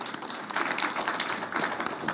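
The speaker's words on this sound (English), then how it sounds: "Let's give him a round of applause" An audience at a talk on respectful, action-oriented partnerships gives a speaker a steady round of applause, a dense wash of clapping that holds for the whole moment without a break.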